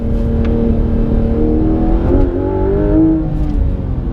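Porsche 991 GT3 RS engine revving hard on a winding road, close and loud, with the pitch climbing steadily through gears and a brief dip around a shift.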